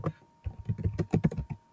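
Quick bursts of keystrokes on a computer keyboard while a folder name is typed, close and crisp, in an irregular rhythm of about a dozen taps with a short pause near the start.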